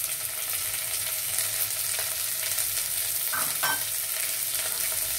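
Onions, carrot, cumin seeds and mustard seeds frying in a pan, a dense continuous sizzle up close with a couple of brief stirring scrapes near the end and no talking.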